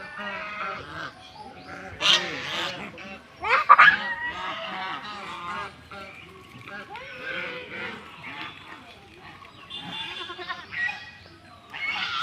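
A group of ducks quacks repeatedly at a temple shrine, with short calls scattered throughout while people talk nearby.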